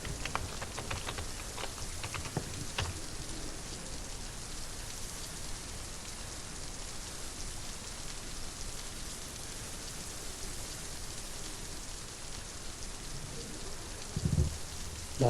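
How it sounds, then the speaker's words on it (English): Steady rain falls outdoors as an even, hissing wash of drops with no letup, moderately quiet throughout, with a few brief clicks near the end. "It's raining today."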